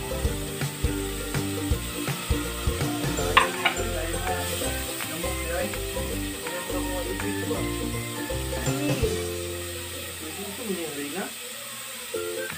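Onions sautéing in a pan while mung bean stew is being cooked, a steady soft sizzle with clinks and scrapes of stirring, and a voice talking over it.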